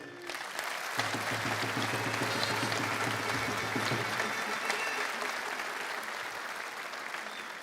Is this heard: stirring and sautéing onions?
no